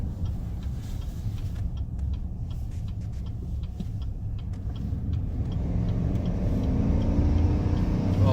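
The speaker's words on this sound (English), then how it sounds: "Oh, listen to that exhaust sing." A 2019 Chevrolet Silverado pickup on a test drive in sport mode gives a steady low exhaust drone that swells louder and deeper over the last few seconds as it accelerates, with faint ticking above and no talk.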